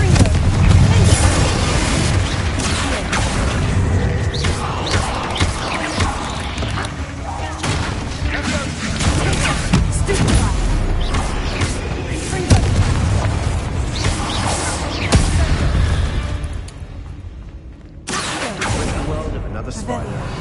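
Bombarda and Confringo spells exploding in Hogwarts Legacy, heavy booming blasts that rumble and roll through dense game sound, with a voice talking throughout.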